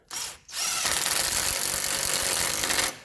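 A power tool whirs briefly, pauses, then runs steadily for about two and a half seconds while spinning a nut down during a wheel bearing replacement on a 2003 Toyota Corolla, stopping abruptly.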